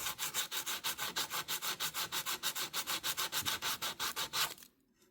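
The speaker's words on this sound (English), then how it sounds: "So let me go ahead and I'll just file this down." Plaster of Paris model garage wall being filed down by hand, a steady run of about twenty rhythmic rasping strokes, close and fairly loud, ending abruptly in near silence.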